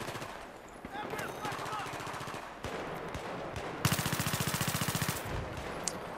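Machine gun fire rattles in Battlefield 3, rapid bursts of evenly spaced shots, the loudest run near the end, with game ambience and distant battle noise behind.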